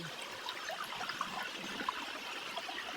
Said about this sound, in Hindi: कितना अच्छा पानी आ रहा।